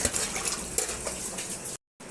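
Black plums (jamun) being rinsed in water, with a steady close splashing and sloshing and faint clinks against a bowl that run for almost two seconds, then a brief silence before the sound resumes.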